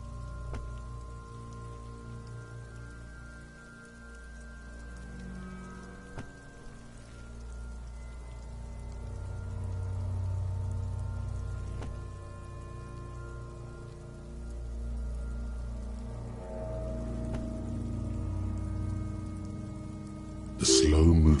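Video game rain falls steadily on surfaces in a soft continuous patter, layered with faint sustained hums and tones, and ending in a sudden louder burst of noise.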